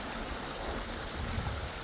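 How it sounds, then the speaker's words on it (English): A tiny creek waterfall on the Mount Washington hiking trail sends out a steady broadband rush of splashing water, close and constant, with no voices over it. "I guess it's a tiny little waterfall"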